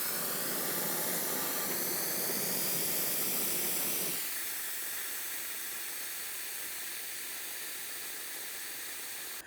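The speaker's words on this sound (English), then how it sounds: "we want to remove as much fluid from inside of the master cylinder as possible" Brake fluid is drawn out of the master cylinder of a 2007-2014 GMC Sierra 2500 HD with a loud, airy suction hiss that drops abruptly to a quieter, steady hiss midway through, close up and with no talk.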